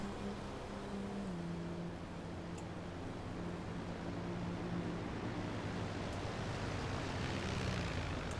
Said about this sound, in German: Jetzt gucken wir mal, was das Flugzeug macht.